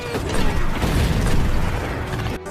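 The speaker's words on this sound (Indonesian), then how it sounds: "Satu persatu tank Nazi berhasil dihancurkan." Nazi tanks being destroyed in a war-film battle: dense, loud rumbling booms and mechanical clatter that fill the moment, ending abruptly.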